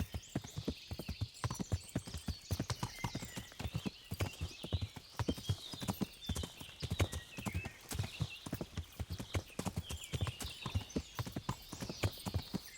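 Horse hooves clip-clopping steadily in the medieval game Kingdom Come: Deliverance, a brisk continuous rhythm of close hoofbeats with faint birdsong overhead.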